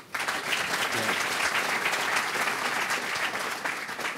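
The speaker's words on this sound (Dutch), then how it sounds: "Mag ik een groot applaus voor criminoloog Abdessamad Boerbiet" A studio audience gives a criminologist guest a strong round of applause, dense and even clapping that starts abruptly and carries on steadily to the end.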